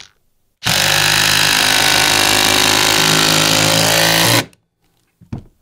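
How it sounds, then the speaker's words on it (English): An impact driver on its number 2 setting drives a 4-inch screw in one sustained, loud, rapid hammering burst of about four seconds, close up, with quiet before and after. "So we'll give this a try in the number 2 setting, see what we get for noise and how quickly this can drive."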